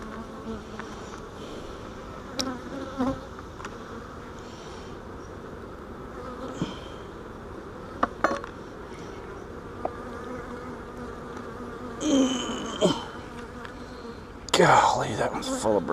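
Honeybees buzz steadily during a beehive inspection while swarm trap frames of natural comb full of brood are handled. A few louder handling knocks and rustles rise over the hum.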